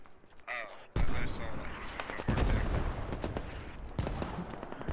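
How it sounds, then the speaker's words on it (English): Gunfire in the military shooter game Squad crackles in dense, continuous bursts with a muffled, distant quality, and an agitated voice talks over the shooting. "I'm getting fucking shot at"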